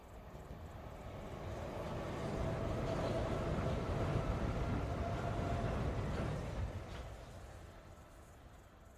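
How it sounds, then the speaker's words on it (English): A train rumbles past, its low roar swelling to a steady peak over several seconds before fading away into the distance. "I just stay and watch the trains blow by every day"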